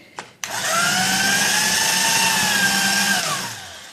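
An electric coconut shredder whirs up after a couple of clicks and grates coconut, holding a loud, steady motor whine for about three seconds before winding down.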